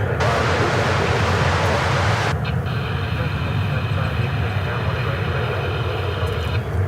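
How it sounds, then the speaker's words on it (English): An American Eagle Embraer 175 regional jet roars steadily at DFW Airport, a broad rushing jet noise heard from the ground with a high whine running through it, while wind noise and a voice sit underneath. "It's actually American Eagle Flight 3420."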